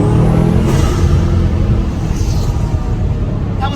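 A Bugatti Chiron Pur Sport's engine gives a loud, steady, deep rumble close by. It holds throughout with no clear rise or fall.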